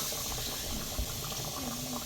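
A pot of Jamaican pig tail soup boiling steadily on the stove, a dense continuous bubbling and hiss with a soft knock partway through, fairly close and without talk.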